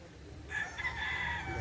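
A Boston Gray gamecock rooster crows on a game farm, one long, fairly close crow lasting about a second over a steady background hum.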